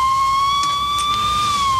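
A steady, loud wailing siren holds a high sustained tone throughout, close and continuous with no voices.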